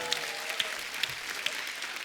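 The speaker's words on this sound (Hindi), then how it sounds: "ये आर्टिस्ट के लिए जोरदार तालियां होनी चाहिए" Audience applause for an artist on a comedy show, moderately faint and steady, with a few sharper individual claps standing out at regular intervals.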